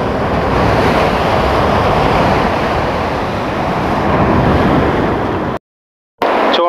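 Sea waves crash continuously on Uppada beach, a loud, roaring surf with heavy wind noise, close and relentless, cutting out briefly near the end.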